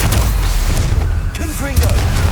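Confringo explosive spell cast in the Hogwarts Legacy video game, heard as booming, blast-like bursts over a dense game backdrop, with a rising whistling tone partway through.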